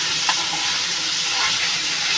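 Potatoes fry in a pan with a loud, close, continuous sizzle and hiss, plus a brief stirring scrape near the start.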